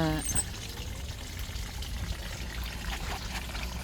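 Tap water runs and pours steadily in an outdoor garden setting, a continuous splashing stream over the whole stretch with a brief voice at the start.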